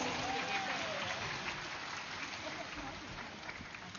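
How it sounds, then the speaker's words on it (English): Audience at a live evening cultural program applauds after a dance performance, steady massed clapping with voices mixed in, slightly muffled and tapering gently. "Please give it a big round of applause."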